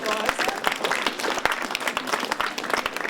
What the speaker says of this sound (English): Can we give our demonstrators a round of applause?